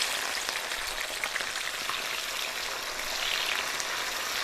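Tomatoes hitting hot oil with a ginger garlic paste in a frying pan, giving a dense, steady sizzle like light rain, close and continuous with no talk.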